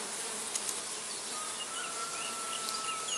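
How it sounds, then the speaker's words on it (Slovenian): Bees swarming in a home garden setting, a dense continuous buzzing drone from many insects close by, steady and loud with no voices. "da so si čebele zbrali tukaj naše domače okolje"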